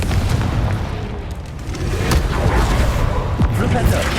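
Confringo spell explosions burst during combat in the video game Hogwarts Legacy, with several sharp booms and blasts over a busy background while a character speaks.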